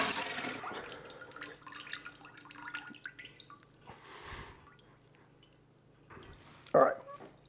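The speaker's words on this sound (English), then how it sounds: "Now I want to go ahead and drain this and pull the turkey out and let it start drying." Turkey brine being drained away from a submerged holiday turkey: quiet water trickling and scattered drips, a low steady hum beneath, and one brief louder splash near the end.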